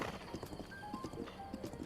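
Horse hooves clip-clop in a steady trotting rhythm in Breath of the Wild, with faint tonal chimes of game ambience underneath and no talking.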